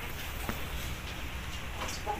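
An Aseel rooster clucks softly over a noisy outdoor background, with a couple of short, faint calls.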